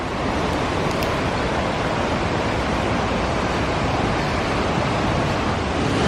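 Rushing water at a waterfall along a forest path, a loud, steady, broadband roar that stays constant throughout with no voices.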